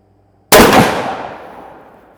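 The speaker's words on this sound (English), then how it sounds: "going to shoot one more shot, make sure I stay in the red" A single sharp muzzleloader rifle shot at a target range, loud and close, cracking out of silence and trailing off in a long fading echo.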